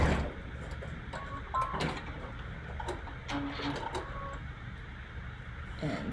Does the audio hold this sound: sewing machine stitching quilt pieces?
yes